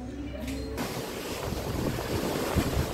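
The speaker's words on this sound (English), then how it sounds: "this nice cool breeze and the sounds of the water splashing up against the, or splashing away from the boat" Water splashes and rushes steadily along the hull of a cruise ship at sea in the Bahamas, mixed with broad wind noise across the microphone. No talking.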